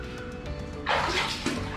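Water runs steadily in a beach resort room at Kudle Beach, Gokarna, starting abruptly partway through after a quiet room tone and continuing as a close, hissing flow with no voices.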